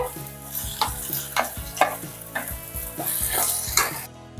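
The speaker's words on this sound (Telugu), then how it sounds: "ఇంకోండి టమాటా ముక్కలు కూడా వేసేస్తున్నాను" Tomato pieces fry with onions and ginger paste in a hot pan, a steady sizzle broken by repeated bursts of stirring and scraping, close and fairly loud, with no talk.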